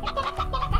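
Chickens in the farming video game Slime Rancher cluck in a quick, steady run of short, loud, close calls with no talk over them.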